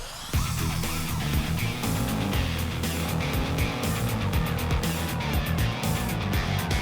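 An off-road car stuck in mud revs its engine hard and continuously, a loud, rough roar with wheel spin and churning noise close by.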